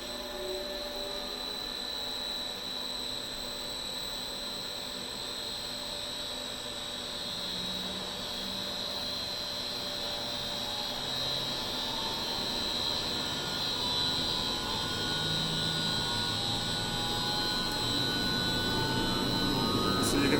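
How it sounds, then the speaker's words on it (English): A brine pump ramping up during tank balancing after a brine leak, a steady mechanical hum and whine with high tonal lines that slowly grows louder over twenty seconds, with faint air noise underneath. "see it starting to drop now as the pump ramps up"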